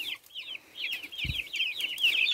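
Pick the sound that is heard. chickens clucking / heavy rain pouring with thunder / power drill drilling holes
chickens clucking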